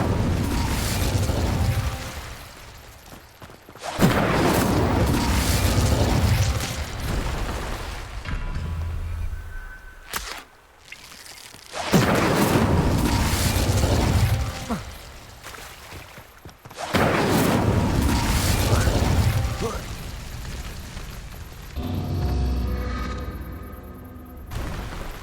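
Incendio fire spells exploding in the video game Hogwarts Legacy, four loud, roaring fiery bursts at regular intervals, each swelling and then dying away, with brief quieter gaps between them.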